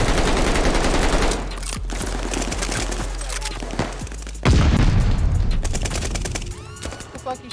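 Gunfire from the online shooter Call of Duty Vanguard: dense, loud volleys of rapid automatic shots and heavy booms rattle almost without pause, with a sharp surge of blasts midway.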